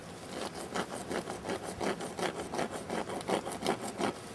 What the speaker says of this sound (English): This block right here is pure magnesium, which is scraped into a pile